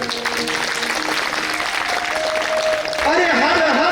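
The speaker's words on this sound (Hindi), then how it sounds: "ताली बजाइए।" Applause from a crowd at a Bhagwat Katha religious discourse breaks out and swells near the end, with voices and tonal background sound beneath it.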